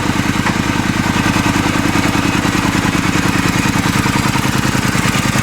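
A Triumph motorcycle with freshly synchronized carburetors runs on a test ride, its engine giving a loud, close, steady, rapid pulsing drone with an even rhythm throughout.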